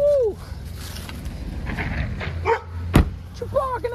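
Dog barking outside a home trailer on arrival after a hunting trip, a few short barks scattered among vehicle and outdoor noise, fairly close, with a person's voice briefly audible.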